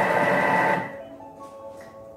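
A food processor chopping parsley leaves and mushrooms at speed four whirs loudly with a dense motor drone for under a second, then cuts off, leaving a faint fading hum and rattle.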